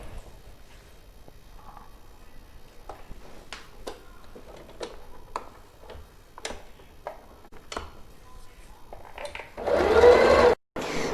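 A Juki HZL-27Z sewing machine stitching an embroidery pattern on setting 2: slow, close, evenly spaced ticking needle strokes, then a loud steady motor whir that runs for about a second near the end, with no talk.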